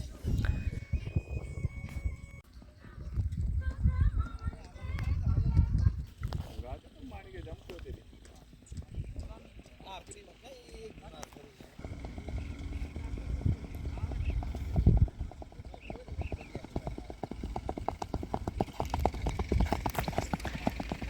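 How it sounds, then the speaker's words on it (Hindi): Several racehorses trot in a rhythmic clip-clop on a dirt field during race practice, hooves steady and fairly close, with someone talking over them and other horses approaching from behind. "और भी घोड़े पीछे से आ रहे"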